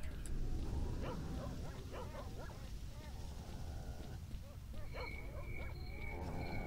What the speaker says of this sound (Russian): Собаки бегают.